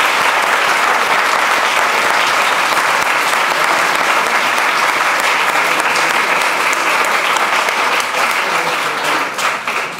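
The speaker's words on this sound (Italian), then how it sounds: "io le incoraggerei con un bel applauso" A live audience at a tribute concert gives sustained, dense applause that holds steady for about ten seconds before easing slightly at the end.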